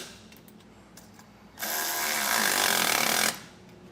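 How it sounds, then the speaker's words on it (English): An electric ratchet tightens grille guard bolts on a 2022 Chevrolet truck with a loud, steady buzzing whir that runs for under two seconds and then stops, close by, with no talk. "We just have these to put on the electric ratchet here."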